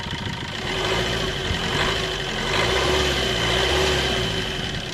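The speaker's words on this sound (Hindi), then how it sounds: "एक्सेलरेट करके एक बार दिखाते हैं आपको कितना नॉइज़ आता है इसमें" The 1.3-litre diesel engine of a Maruti Suzuki S-Cross runs close by, its rumble swelling twice as it is revved, then settling back toward idle.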